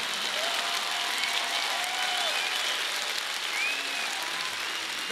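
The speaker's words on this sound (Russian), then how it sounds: "Похлопаем композитору," A concert audience applauds the composer at a Moscow reunion show: dense, steady clapping from a large crowd, even and sustained throughout with no pauses.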